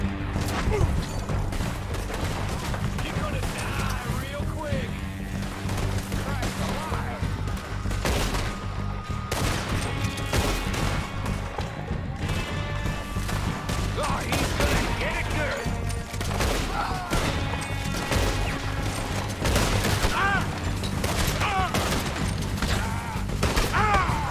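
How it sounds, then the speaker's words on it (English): Rapid bursts of gunfire from the video game Red Dead Redemption 2 fire at point-blank range amid a dense, continuous game soundscape, with someone talking over the action. "I'm trying to shoot you. Literally at point blank."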